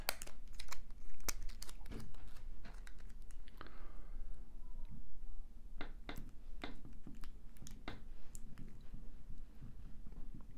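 Sticky tape is pressed onto a thermal detonator prop build over a lever switch, with a series of sharp crinkling, peeling and tapping sounds at close range, irregular and fairly quiet.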